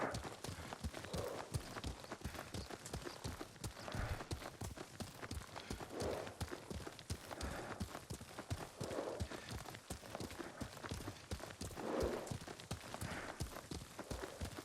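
Rhythmic clip-clop of a horse's hooves at a steady canter while riding in Ghost of Tsushima, continuous and fairly close, with occasional faint voices in the background.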